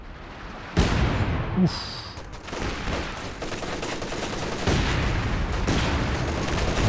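Company of Heroes 2 battle with Scout car barrage and automatic fire, sharp gunshot bursts and rattling weapon fire over a rumbling combat background, including a sudden loud impact near the start and a brief grunt.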